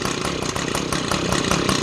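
A small engine on a piece of summer yard equipment runs on choke, sputtering and catching in rough, uneven pulses as if about to stall, loud and close with no talk.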